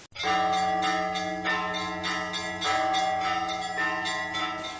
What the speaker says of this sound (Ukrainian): Це дзвони пробудження пам'яті, яка не повинна ніколи згасати.